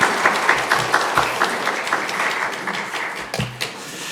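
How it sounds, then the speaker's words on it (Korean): Congregation at a Korean church's Sunday afternoon service clapping to welcome a visiting pastor from a Philippine mission church; moderately loud applause with uneven claps and a few louder bursts, fading slightly toward the end. "우리 큰 박수로 한번 환영하겠습니다"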